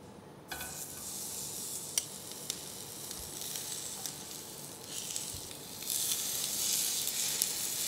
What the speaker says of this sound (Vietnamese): Sau đó mình bắt chảo lại tiếp và bắt đầu mình chuẩn bị mình rán gà.